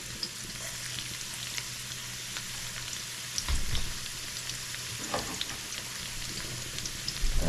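Garlic fries in a hot pan for a shrimp and eddo curry, a close, steady sizzle with a few soft stirring scrapes and knocks, without talk.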